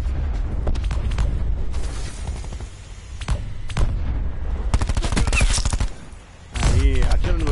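Sustained bursts of rapid video game gunfire, loud and close, with single shots and machine-gun volleys running almost continuously, briefly dropping out before resuming, while players shout over the shooting.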